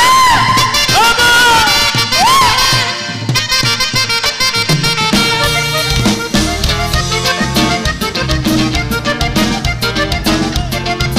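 A concert crowd at a show shouts, whoops and cheers loudly under the band's music, with the noise swelling and staying dense throughout.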